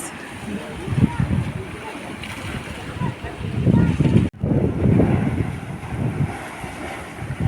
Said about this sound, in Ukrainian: Отакі скали, повітря і вода роблять неймовірний звук.